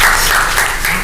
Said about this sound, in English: we're going to give them a round of applause as well